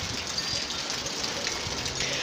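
Heavy rain pours steadily outdoors, a dense, even wash of noise with scattered drops spattering nearby, constant and loud throughout with no talk.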